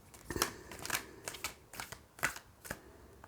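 Tarot cards shuffled and handled by hand, a series of soft papery riffles and flicks in uneven bursts, close and fairly quiet with no voices.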